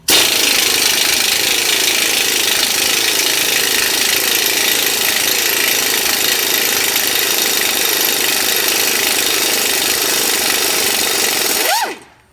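A 3/8-inch power tool drives tow hitch bolts on a 2007–2015 Chevrolet/GMC/Cadillac, hammering in one loud, continuous rattling burst for nearly twelve seconds before stopping abruptly.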